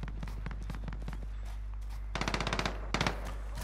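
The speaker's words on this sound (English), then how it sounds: "Can you stop shooting each other?" Automatic gunfire in Call of Duty Warzone, set in Verdansk: rapid bursts of shots under a constant low game hum, with a denser, louder volley near the end and no talk.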